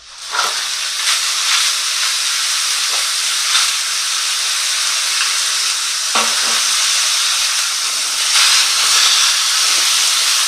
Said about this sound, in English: fry the beef mince in a little oil over medium heat until browned around 8 minutes